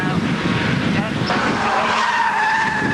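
A Porsche 924 race car slides crossed up on a circuit, its tires skidding and squealing in a sustained rasping hiss over engine noise, heard from trackside.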